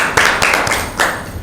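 Clapping for the winning team at a Bible quiz in a school village, a short burst of a few people's hands clapping nearby, uneven slaps with a couple of stronger accents.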